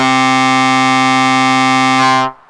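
Sequential Rev 2 synthesizer playing C octaves through a Boss Metal Zone MT-2 distortion pedal, a loud, dense, steady buzzing drone held for over two seconds before cutting off sharply, with no talk.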